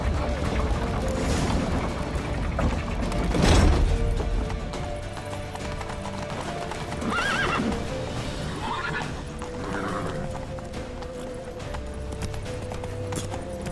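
Horse hooves clatter and a horse whinnies amid a busy, rumbling game-like soundscape, with a sharp boom near the start, in The Witcher 3: Wild Hunt.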